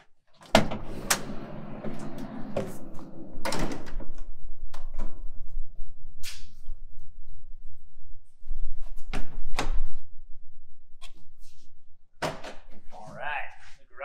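Rear doors of a professionally built conversion van are opened, giving a few sharp latch clunks and thuds amid handling noise, while someone talks throughout.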